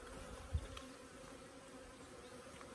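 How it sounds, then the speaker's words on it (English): A single bee, loose indoors, buzzes faintly and steadily close by, its drone with a brief louder swell as it flies past. "You find the bee."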